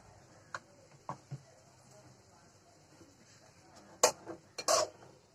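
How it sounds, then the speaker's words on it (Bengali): A spoon stirring cumin, ginger and garlic pastes in a cooking pan, heard as scattered soft clinks and taps of metal on the pan, with two sharper, louder scrapes near the end. "হালকা একটু নেড়ে চেড়ে নিয়ে নিচ্ছি।"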